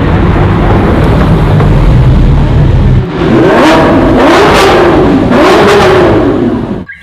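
A toy Lamborghini car gives off a continuous electronic engine revving noise close up, with rising and falling whine sweeps repeating over several seconds, then fading out at the end.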